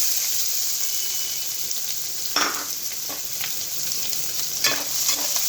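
Onions frying with curry leaves in a pan for cabbage chana dal curry, a steady hiss with a few brief scraping stirs.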